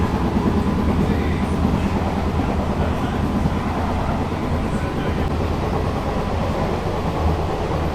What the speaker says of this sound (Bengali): চাকদা রেলওয়ে স্টেশনে আমাদের ট্রেন এসছে এক নাম প্ল্যাটফর্মে